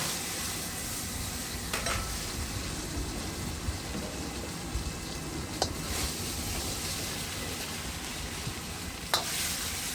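Beef sears in oil in a hot wok, giving a steady, dense sizzle that holds for the whole stretch, with occasional sharp scrapes and taps of a utensil against the metal, close up and with no talking.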